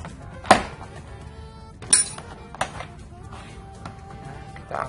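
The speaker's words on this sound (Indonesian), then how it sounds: "sekarang kita lepas di sisi samping ya. Pakai obeng minus." A flathead screwdriver pries off a side cover of an electric door mirror on a Toyota Avanza, producing a few scattered plastic clicks and knocks, close and fairly quiet, with a brief sharp snap among them.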